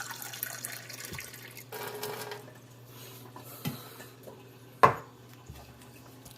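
Water from a LiquaGen 6-stage portable pH alkaline RO/DI system runs in a thin, steady stream into a glass, with a few light clinks and one sharp knock of glass along the way.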